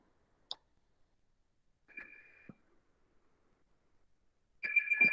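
A phone ringing partway through a programming lecture, sounding as a brief beep, then a tonal ring near two seconds and a louder ring starting at the end, with quiet gaps between.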